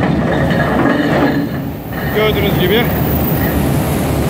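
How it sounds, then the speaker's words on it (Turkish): Ship anchor chain running out aboard a vessel, a loud continuous metallic rumble and clatter with faint squeals, close by, with someone speaking briefly over it. "Şu anda zincir akmak üzere."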